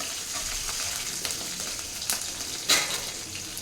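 Sabudana and chopped green chillies are stirred in a frying pan, giving a steady soft sizzle with intermittent scraping taps of the spoon against the pan, close and unaccompanied by talk.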